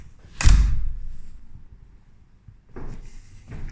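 A newly installed exterior door's lock is worked back and forth, giving a loud thunk near the start and then quieter clunks and rattles a few seconds later, with no talking.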